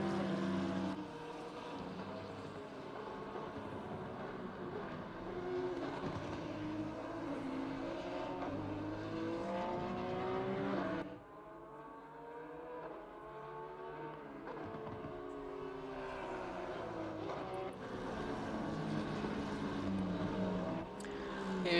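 A race car on a flying qualifying lap at Zandvoort in Assetto Corsa Competizione, a faint engine note rising and falling through gearshifts and corners, with a brief dip as it lifts before accelerating again.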